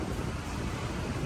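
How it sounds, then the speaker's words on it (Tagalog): Steady broadband hiss of refrigerant purging air from a car aircon hose on a 1994 Mitsubishi L200, loud and continuous throughout, with no voices. "kaunting pihit, pasingaw. Para yung hangin sa hose"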